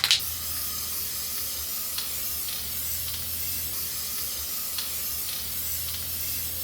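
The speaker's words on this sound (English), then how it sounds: "So yeah, just try to just spray evenly on here." Spray paint hisses continuously onto a hanging denim jacket, a steady close-up aerosol rush with a brief sharper burst at the start and faint clicks along the way.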